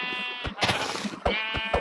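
A sheep bleats in the Minecraft video game, with several short nasal bleats in quick succession, loud and close, and no talk over them.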